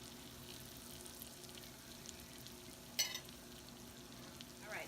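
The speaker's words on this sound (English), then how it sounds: "we're just going to let this fry down on one side for about 3 or 4 minutes." Liver pieces frying in a pan for liver and onions, a low steady sizzle with faint crackle throughout and one brief sharper clink near the middle.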